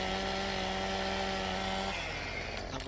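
A chainsaw in the Farming Simulator video game cutting timber on a wooded mountain map, a loud steady buzzing engine drone that holds for about two seconds and then shifts pitch as it revs down, with no talking.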